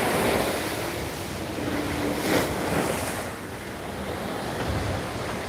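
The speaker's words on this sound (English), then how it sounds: "Nice wind blowing in off the beach." Wind blows in off the beach at Waikiki, a steady breezy rush buffeting the microphone, mixed with the wash of surf and gusts that swell and ease with no one speaking.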